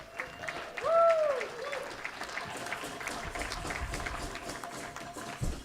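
Rotary club members clap for a birthday at a meeting, a burst of applause from the room that carries on steadily for several seconds, with a brief whistle-like tone near the start.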